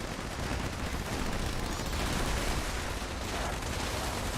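A minigun in Fallout 76 fires one continuous, dense roar of rapid gunfire, loud and steady throughout without pause.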